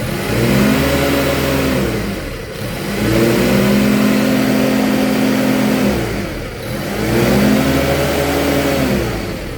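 A Toyota 7FGU32 forklift engine with an erratic idle, freshly fitted throttle body, revved loud and close by foot pedal in three smooth rises and falls, a steady mid-pitched drone swelling and easing back toward idle.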